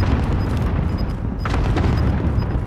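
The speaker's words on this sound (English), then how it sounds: "Allied precision airstrike incoming!" Allied precision airstrike explosions in a video game, a dense continuous rumble of booms and blasts filling the whole moment at loud, steady level, with no clear gaps between impacts.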